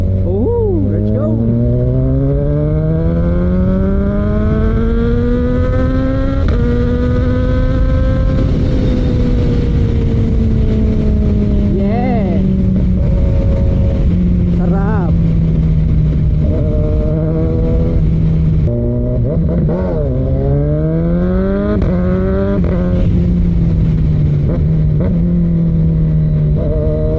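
A motorcycle fitted with its stock air filter accelerates hard, the engine note climbing and shifting through gears, loud and close throughout, with a voice talking over it.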